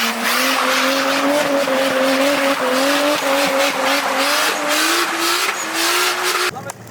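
Tires squeal continuously with a rising pitch as a car does donuts nearby, engine roaring underneath, loud and sustained until an abrupt cut near the end.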